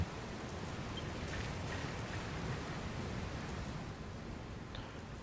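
Steady heavy rain from a storm in Dragon Quest Builders 2, an even hissing downpour with faint low rumbling beneath, continuous and unbroken throughout.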